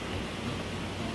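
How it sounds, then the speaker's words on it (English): Steady rain falls throughout, a dense, even broadband hiss at moderate level with no distinct drops or thunder standing out, heard alone without any voices. "Oh, it's raining again."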